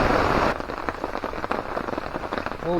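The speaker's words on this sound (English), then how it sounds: "Here comes the rain." Steady rain hisses down during a thunderstorm at a dollar-store campsite, a dense, even patter that stays loud and close throughout, with no voices.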